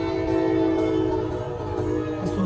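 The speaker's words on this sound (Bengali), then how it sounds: "প্রত্যেকটা ট্রেন বুঝি প্যাসেঞ্জার ট্রেন" A passenger train passes nearby with a steady, loud rumble of wheels and engine, carrying a sustained low hum throughout with no voices.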